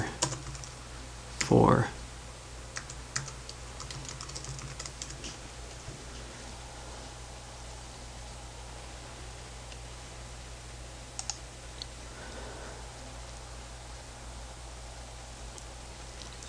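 Soft keyboard typing of a username on a computer, a short run of quiet key clicks after a brief spoken word, with a few isolated clicks later over steady background hum.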